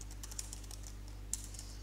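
Quiet computer keyboard typing, a few soft irregular key taps with a couple of sharper clicks over a steady low electrical hum.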